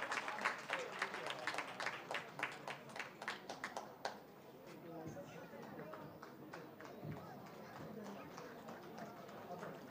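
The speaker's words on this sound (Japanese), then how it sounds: "サポーターたちもこの大きな拍手、そして鳴り物" Supporters at a women's football league match in an Ehime stadium clap in sharp, rapid bursts, with rattling noisemakers, during the first half; the crowd noise thins into a softer, steady background wash while a commentator speaks throughout.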